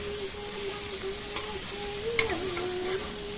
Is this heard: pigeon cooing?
no